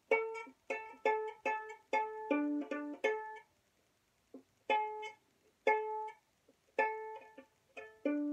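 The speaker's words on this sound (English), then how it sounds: "Turn the peg towards you, like this, to make the sound go lower" A plucked string sounds again and again in clear, separate notes, its pitch sliding between plucks as the tuning peg is turned, with brief silences between.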